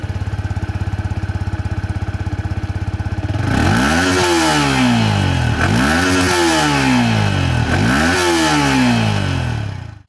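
A Yamaha XSR155 motorcycle engine idles with a fast, even putter. It then revs hard in four rising-and-falling sweeps, close and loud, with a steady clatter under each rev and no talking.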